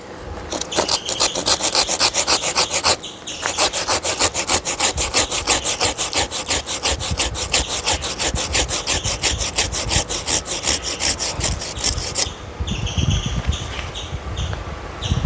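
A hand saw cuts through a jackfruit tree branch being prepared for bark grafting, fast rhythmic strokes close by with a brief pause early on, then a change in tone near the end, no talk.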